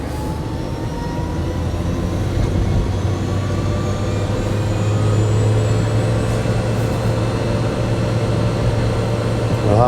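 A small Citroën Ami electric car drives along, probably slightly downhill, with loud road and cabin rumble heard from inside and a thin motor whine that climbs steadily in pitch as it gathers speed.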